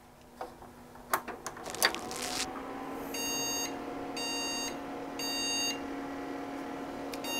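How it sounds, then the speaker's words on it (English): A computer motherboard with all RAM removed gives three evenly spaced high electronic error beeps at boot, each about half a second long, after a few clicks and a low fan hum. "Yep, so we're getting the same 3 beeps."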